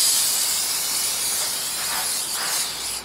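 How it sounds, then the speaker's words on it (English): Cleaning spray blasts onto the outside of a 2005 Lexus ES330 front brake rotor in a continuous, close, bright hiss that wavers slightly as the stream moves, with no talking. "Now let's finish cleaning off the outside of this rotor."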